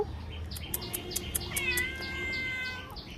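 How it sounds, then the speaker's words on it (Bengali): A cat meows in a long, drawn-out cry that rises and falls. It is fairly close, with a few faint clicks around it. "Miao Miao Miao. এই মিয়াও মিয়াও"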